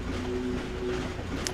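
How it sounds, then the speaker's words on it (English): A tram rolls along in the Ratchet and Clank video game, a steady rumbling and clattering ride with a sustained humming tone, heard alone without any talk. "Let's hop onto the tram."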